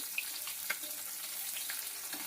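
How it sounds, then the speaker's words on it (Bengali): Khoira fish fry gently in a pan of oil, giving a soft, steady crackling sizzle with occasional small pops, fairly quiet and with no voices. "খুব হালকা করে ভাজবো না খুব কড়া করেও ভাজবো না মাছের যেন আস্তে গন্ধটা না থাকে সেভাবে ভেজে নিতে হবে"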